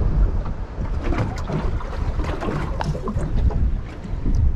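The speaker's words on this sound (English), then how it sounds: "That wind's picking up." Strong wind gusts over an uninhabited island campsite, a loud continuous rushing roar with buffeting against the microphone and no voices.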